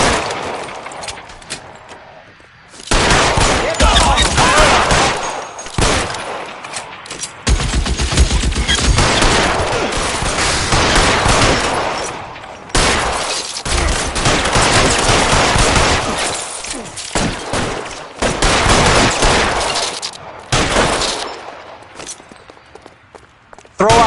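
Gunfire in the video game L.A. Noire rattles in dense bursts of rapid shots between short gaps, loud and close, with footsteps and shouted voices now and then.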